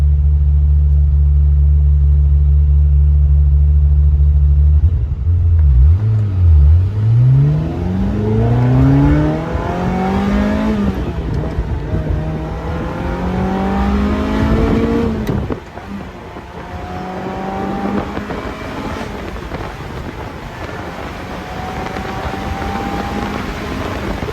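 A 1997 Ferrari 355 Spider with a six-speed manual, driven top down, revs hard and climbs through the gears, its loud, close engine note rising in pitch, dipping at each shift and rising again.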